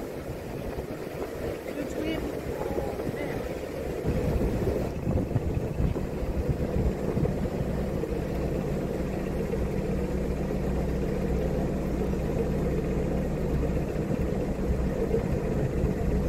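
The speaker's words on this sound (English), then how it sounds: "that's a noisy boat" A canal boat engine runs on the Caldon Canal, a steady low rumble that holds throughout, close by and fairly noisy, with people talking over it at times.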